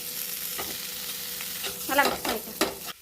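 Potatoes being stirred into a sizzling pan of frying onion, tomato and chili for a spicy Tamil potato curry. A spoon scrapes and clatters in several quick strokes over steady frying noise, up close and without speech.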